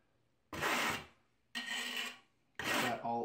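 A notched trowel scraping grooves into mortar spread across the back of a bathroom wall tile: three separate raspy strokes, each close and loud for about half a second to a second, with short pauses between them.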